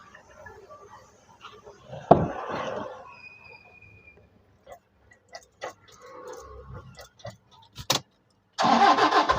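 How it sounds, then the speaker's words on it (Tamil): A Toyota Innova G engine cranks and catches with a burst of noise, then settles into a low idle with scattered clicks; a sharp rise of hissing noise near the end. "வண்டியோட இன்ஜின் கண்டிஷன் எப்படின்னு ஸ்டார்ட் பண்ணி பார்த்துடலாம்."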